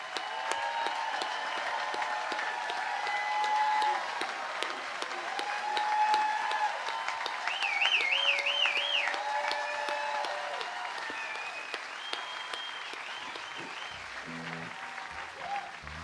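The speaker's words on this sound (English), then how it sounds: "thanking you with a hand clap and a standing ovation" A concert audience at a show gives a standing ovation, with sustained, steady applause and cheering throughout, whistles and crowd noise mixed in, fading slightly near the end as a voice begins to speak.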